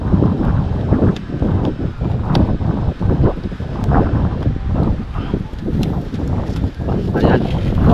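Strong wind buffets a boat in constant loud gusts and rumbling, with a voice partly buried under the noise.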